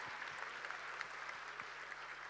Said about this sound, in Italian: a cui chiedo un grande applauso